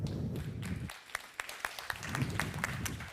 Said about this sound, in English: please give a big applause to Smart Contract Engineer at Delphi Digital